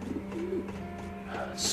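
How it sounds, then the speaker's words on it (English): Pigeons coo softly in the Wii video game Fragile Dreams, a brief low rolling call over a steady background hum. "Ugh, more pigeons."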